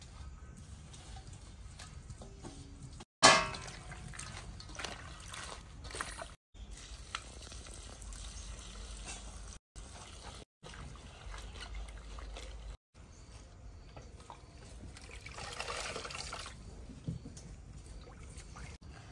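Fenugreek leaves being washed by hand in a bowl of water, with intermittent close sloshing and splashing across several short takes, one sharp clatter near the start, fainter stretches between.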